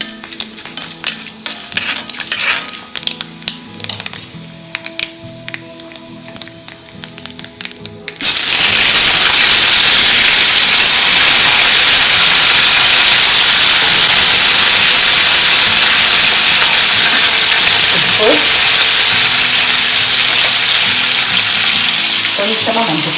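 Soaked plantain slices dropped into hot tempering oil burst into a loud, steady sizzle that fills the rest of the clip, following a stretch of quieter clinking kitchen sounds.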